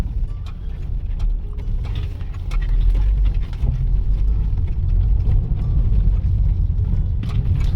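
A 2014 Volkswagen Beetle Cabrio 1.8T drives over a rough street, its front suspension giving a loud continuous low rumble with dense knocks and thumps that grow heavier partway through.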